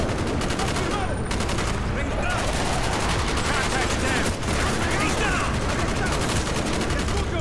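Sustained gunfire in Call of Duty: Black Ops rattles on continuously and loudly, a thick barrage of overlapping shots and explosions throughout with a brief dip in the middle.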